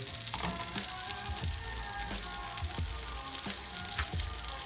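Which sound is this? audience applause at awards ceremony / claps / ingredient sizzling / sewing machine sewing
ingredient sizzling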